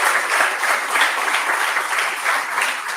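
An audience at a hackathon grand finale gives a dense, loud round of applause to the jury members, the clapping holding at an even level without a break for a few seconds.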